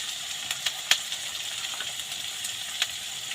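Meat sizzling and frying in a pan before bitter gourd goes in, a steady crackling hiss with occasional sharper pops, moderately close and with no one talking.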